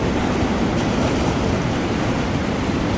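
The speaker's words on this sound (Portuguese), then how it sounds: "Olha o barulho do mar." A large seashell held to the ear gives off a steady, soft ocean-like rushing hiss, an even wash of noise with no voices.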